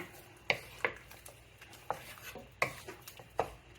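A utensil stirring coconut chicken in a metal pot, giving several sharp scraping clinks at uneven intervals, fairly quiet and close with no talking.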